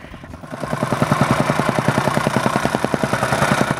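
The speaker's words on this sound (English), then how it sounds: "Here he was compacting for one floor drain." A plate compactor packs sand for a floor drain in a shop build, a loud close engine hammering out steady rapid thumps with no talking.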